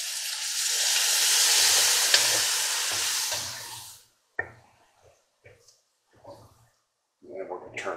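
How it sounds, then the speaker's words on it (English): Beef broth poured slowly into a hot pan where onions for smothered pork medallions have been stirring, a loud steady sizzle for about four seconds that dies away into quiet clinks and scrapes, with low talk underneath. "now we are going to slowly start adding in our beef broth"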